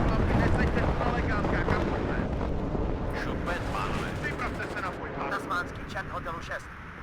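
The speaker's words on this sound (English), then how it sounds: "huge bombs" Huge bombs detonate in the real-time strategy game WARNO, a dense, rumbling wall of overlapping explosions and crackling impacts that slowly thins out, with voices faintly present beneath the blasts.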